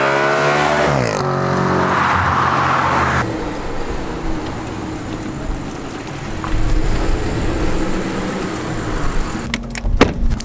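An Audi RS5 driving, engine revving with rising gear tones before settling into a broad rumbling road roar, close and loud, ending with a few sharp knocks.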